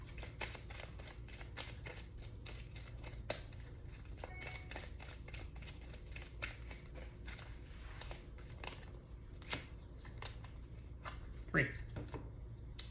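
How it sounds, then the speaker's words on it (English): A deck of cards is shuffled at the table during a two-player Mystic Vale board game, a quiet run of rapid riffling clicks up close, with a voice speaking briefly partway through. "And I shuffle."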